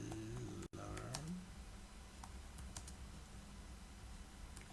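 Typing HTML text on a computer keyboard, a brief voice at the start, then a run of light, scattered key clicks, quiet and close over a steady background hiss.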